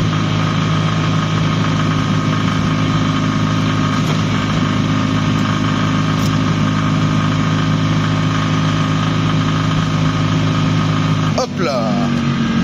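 A small French license-free car, the Dué Initial, drives with a steady, droning engine hum and vibration that runs continuously throughout, loud and close, with a brief rattling disturbance near the end.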